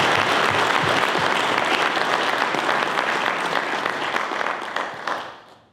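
Sustained applause from a large audience at a wildfire symposium in Fallbrook, California, a dense wash of clapping that holds steady for several seconds before tapering off at the end.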